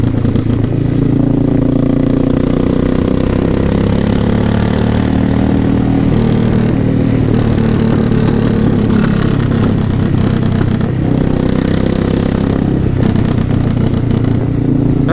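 An older carbureted Suzuki S40 single-cylinder thumper runs steadily, its low, throbbing engine note close and loud with clattering mechanical texture and slight swells in revs, no voices.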